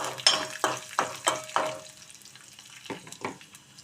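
Tempering seeds of mustard, cumin, chana dal and urad dal frying in hot oil for a coriander chutney, heard as a steady sizzle broken by six rhythmic, close stirring scrapes that fade toward the end.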